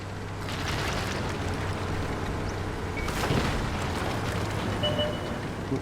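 A tank destroyer blowing up in the console version of World of Tanks, with a dull boom swelling out of steady battle rumble and engine drone, loud and close, no talking.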